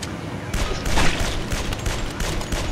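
Gunfire in the mob shooter Guns, Gore & Cannoli, a loud dense burst of rapid cartoonish shots filling the whole moment with no voices.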